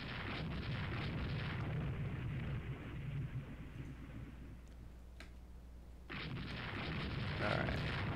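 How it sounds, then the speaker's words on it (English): A shell hit explodes on a warship in the naval game Rule the Waves 3, a heavy, rumbling boom that swells and lingers over continuous low battle noise before the sound briefly drops away. "Oh, we took a shell hit."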